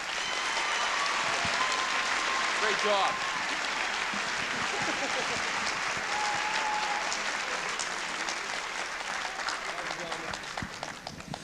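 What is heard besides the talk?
audience applause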